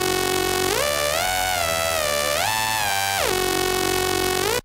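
A bright, buzzy sawtooth-wave synthesizer tone, raw and unprocessed, holding steady notes and stepping up and down through a few pitches for several seconds, with no other sounds.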